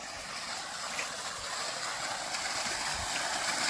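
Steady, even gushing of water pouring out under pressure from a farm water pump motor, a continuous broadband rush with no talking.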